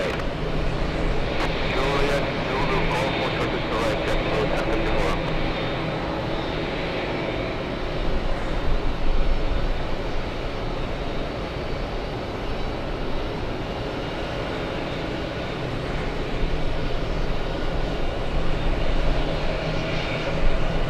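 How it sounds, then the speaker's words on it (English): A JetBlue airliner arriving at JFK from San Francisco sends a steady, loud engine roar across the airfield for the whole stretch, rising slightly toward the end, with broadband rumble throughout. "We have another arrival. We have JetBlue flying in from San Francisco."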